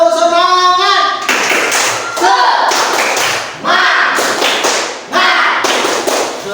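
Children in a classroom perform a rhythmic spirit clap, sharp claps and taps in short patterned bursts alternating with chanted voices, loud and close.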